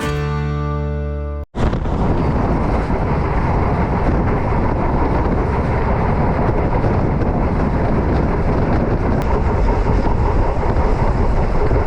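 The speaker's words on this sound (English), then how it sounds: "the rhythmic clatter of the tracks beneath" A train rolls through the dry open desert of Rajasthan, a loud continuous rumble and rattle of wheels on track with wind buffeting, following a brief tonal sound that cuts off abruptly.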